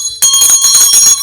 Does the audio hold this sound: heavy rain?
no